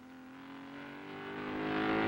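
A motorcycle engine revs in a superhero TV show scene, a steady droning tone that swells gradually louder over about two seconds, with no talking.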